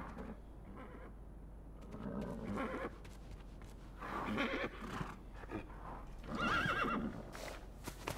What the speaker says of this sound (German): Oh, armes Pferd, ey.